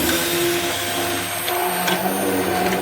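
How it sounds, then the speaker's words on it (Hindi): A blender whirs steadily with a loud, continuous motor drone as it blends lentils with water, the pitch wavering a little as it runs. "और दाल को ब्लेंडर से अच्छे से ब्लेंड कर"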